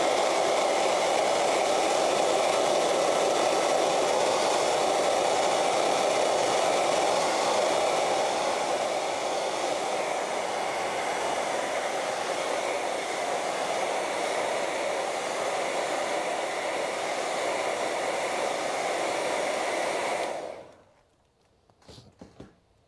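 A hair dryer blows a steady, loud airy whoosh over a painting for about twenty seconds, then switches off and only faint clatter remains.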